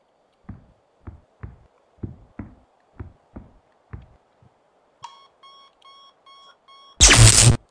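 A door alarm in a horror video game goes off after a string of evenly spaced footsteps: a steady run of electronic beeps, then a sudden loud, harsh blast at the end.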